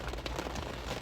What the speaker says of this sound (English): we braved the rain